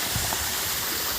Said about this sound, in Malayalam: വെള്ളച്ചാട്ടം പോലെ നല്ല രസമുണ്ട്